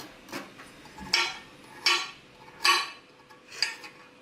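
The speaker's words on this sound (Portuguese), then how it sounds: "agora vou picar a minha abóbora" A knife chops peeled pumpkin on a cutting board, giving five sharp, evenly spaced knocks at close range against a quiet kitchen background.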